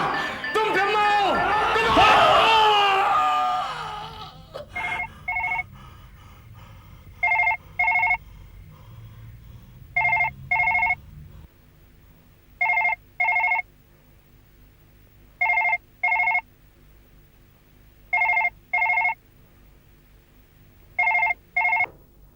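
Late at night in a Hindi horror drama, a telephone bell rings in repeated double bursts, eight in all, clear and evenly spaced after a brief spell of laughter.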